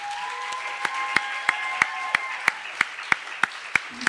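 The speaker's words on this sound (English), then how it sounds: "let's give them a big round of applause" An audience applauds contestants at a Poetry Out Loud state final in Delaware, with a steady wash of clapping and a few sharp, evenly spaced claps standing out near the microphone, plus faint high whoops.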